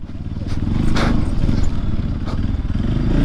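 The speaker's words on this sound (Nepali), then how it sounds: "ल बाइक चिप्लिसक्यो" A motorcycle labours on a muddy hill road during a group ride, its engine rumbling low and continuous with scraping and clattering as the bike slips, while riders talk.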